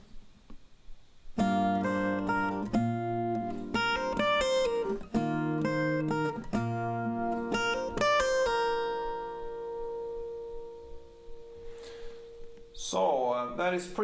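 An acoustic guitar plays part of a song at full tempo, with close, ringing strummed chords and picked notes that sustain into a fade before a voice starts talking.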